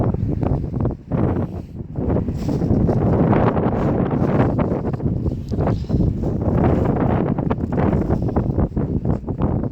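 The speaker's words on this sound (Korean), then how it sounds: "바람이 많이 부네요." Strong wind blows across the roof of a timber-frame house under construction, roaring and buffeting loudly and steadily against the microphone with gusty surges throughout.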